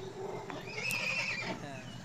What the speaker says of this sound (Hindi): तो ये तो बहुत शैतान घोड़े है.